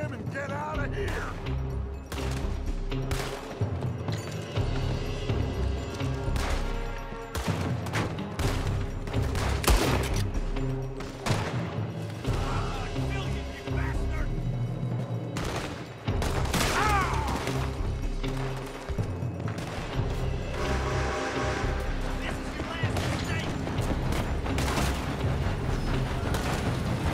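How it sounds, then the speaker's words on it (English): Sustained gunfire erupts from a building in the video game Red Dead Redemption 2, repeated loud shots and crashes through a long firefight, with voices speaking over the battle. "They're shooting from that building."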